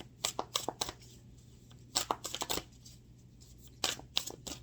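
A tarot deck is shuffled and cards are drawn and laid down close by, giving three bursts of crisp riffling and flicking separated by quieter pauses.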